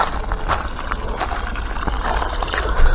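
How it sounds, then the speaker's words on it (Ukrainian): Water being poured for ducks on a Ukrainian homestead garden plot, a continuous splashing trickle close by with small clanks, alone without talk. "зараз наливаю воду"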